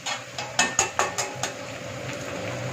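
A spatula scrapes and knocks against a pan while egg and chicken sausage fried rice is stirred, giving about five sharp metallic clinks in quick succession followed by a quieter background hum.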